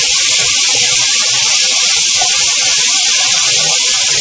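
Ginger-garlic paste frying in hot oil in a karahi for a potato, pea and tomato dish, giving a steady, loud, close sizzling hiss throughout with no talking.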